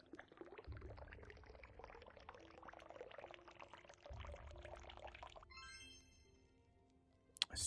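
In a VR puzzle game, liquid pours out in a close, gurgling stream that bubbles and splashes for several seconds before giving way to a brief rising chime-like tone.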